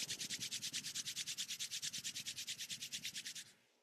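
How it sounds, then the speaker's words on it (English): Two palms rub briskly together in a quiet yoga session, making a soft, even swishing with a steady back-and-forth rhythm of about thirty strokes that ends abruptly. "Rub the palms together."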